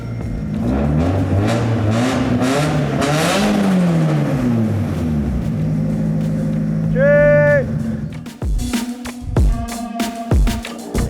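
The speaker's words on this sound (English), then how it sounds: "Let's have a listen to that SR20 because she is one raspy girl." A Nissan 180SX with an SR20 engine revs up and down in long rising and falling sweeps that give a raspy, buzzy exhaust note, loud and close, followed by a few sharp blips at the end.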